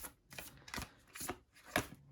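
Soft, quiet riffling of a deck of oracle cards being shuffled, a few short crisp bursts spaced about half a second apart.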